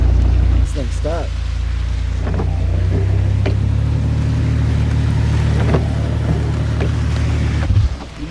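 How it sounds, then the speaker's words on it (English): Heavy rain drums steadily on a vehicle during Oklahoma flooding, a dense continuous wash with a low engine-like rumble underneath, while people talk over it. "So the rain has picked back up."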